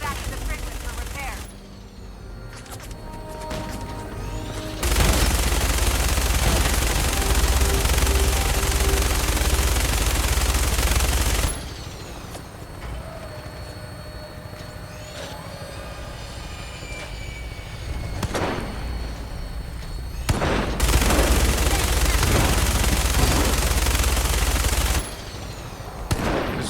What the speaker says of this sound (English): This minigun has some really high damage for some reason.